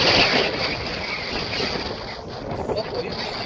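Strong outdoor wind roars and buffets the microphone in a loud, continuous rush strong enough to whip a flag, with a voice faintly beneath it.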